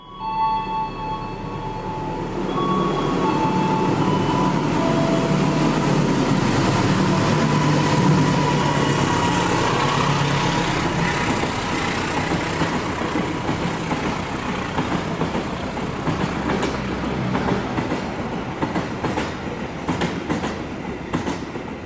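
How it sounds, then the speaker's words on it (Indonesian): The Dharma Wangsa passenger train rolls through Cirebon station, a loud, steady rumble with rhythmic wheel clatter and metallic screeches, carrying on for about twenty seconds with no voices. "Yang baru saja lewat itu adalah kereta api Dharma Wangsa."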